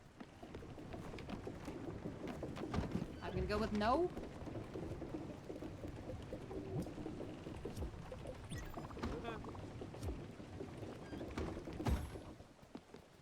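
Steady rain falls outdoors as a constant hiss throughout, with a few brief voices talking over it.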